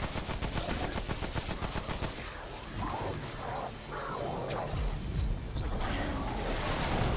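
Rapid automatic gunfire from a video game, a dense, loud, continuous rattle of shots with whooshes and crashes and almost no letup.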